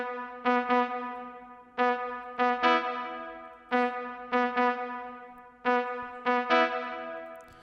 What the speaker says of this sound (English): So that's what the trumpet sounds like.